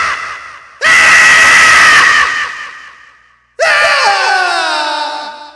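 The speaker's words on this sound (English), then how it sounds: "and then you hear the mom screaming, and this actress had a great scream" A woman screams in a Space: 1999 episode, two long, loud, piercing shrieks separated by a brief silence, the second wavering and fading out.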